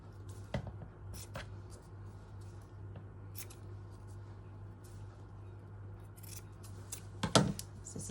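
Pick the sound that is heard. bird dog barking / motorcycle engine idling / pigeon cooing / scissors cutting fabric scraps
scissors cutting fabric scraps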